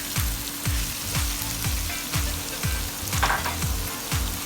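Chicken pasta with tomato paste fries in a pan under a strong, steady sizzle, with a rhythmic low thumping pulse repeating about twice a second throughout.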